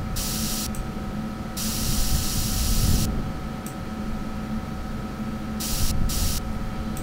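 Hissing bursts of a spray paint can in the Backrooms video game, several sprays of uneven length with brief gaps between them, loud and near over a low steady background hum.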